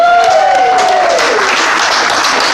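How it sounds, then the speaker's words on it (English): Audience applause at a crime-fiction awards shortlist announcement, loud dense clapping that fills the whole stretch, with faint tonal traces early on and no speech. "please give a big round of applause for all of them"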